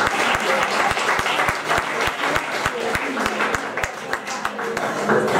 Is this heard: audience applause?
yes